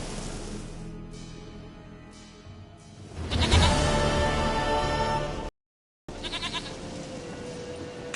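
A goat in The Witcher 3 video game bleats loudly several times, long wavering calls rising and falling near the listener, with a short gap of silence and quiet game ambience around them.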